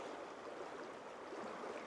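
Steady broadband rush of flowing water beside a campsite at night, a continuous even wash close by with no voices.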